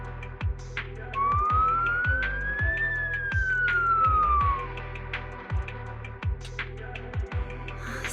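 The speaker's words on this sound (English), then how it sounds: "So it really is a siren." A video game siren in Zenless Zone Zero rises and falls in a single long wail over a rhythmic mechanical thumping that repeats at a steady pace.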